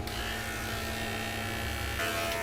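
Beardo electric beard trimmer with a small attachment, a steady close buzzing whine running continuously, with a slight shift in tone near the end.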